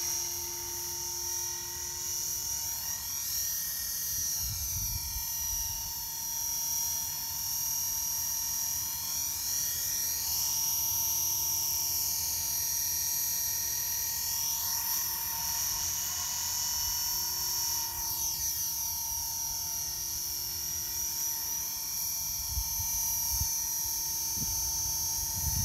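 An Align T-Rex 450 V2 RC helicopter flies steadily throughout, its high whining rotor and motor tone rising and falling in pitch as it moves, loud and continuous with no talk.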